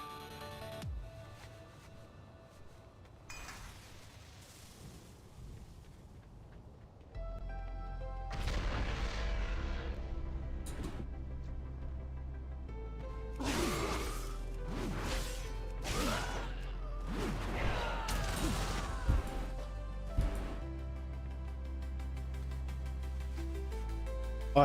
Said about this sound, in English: Oh, I forgot that cannon over there.